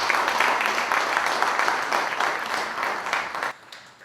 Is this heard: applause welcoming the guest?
yes